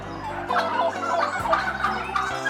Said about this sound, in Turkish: Ve bu da bir hindi.